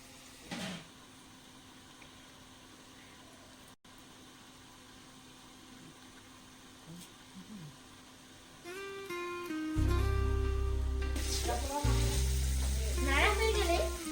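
Bengali desi chicken curry sizzles in a frying pan as it is stirred, a low steady fry with occasional scrapes, then louder bursts of sizzling and clatter toward the end as music or a voice comes in.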